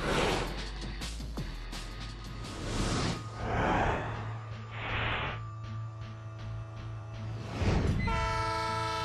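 The Spirit of Oregon, a refurbished locomotive, rumbles along with a low steady engine drone as its horn sounds in several long blasts, the loudest near the end, over faint rail noise.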